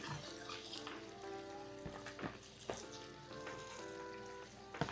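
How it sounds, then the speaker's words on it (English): Spinach sautés in butter in a pot, giving a soft, faint sizzle with a few brief clinks and tonal hums over a quiet kitchen background. "I'm going to saute the spinach a little bit first before I add the rice"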